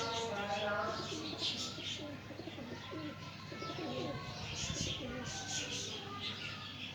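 Pigeons coo softly over a steady outdoor hum, with faint wing flutters and chirps mixed in while people talk nearby.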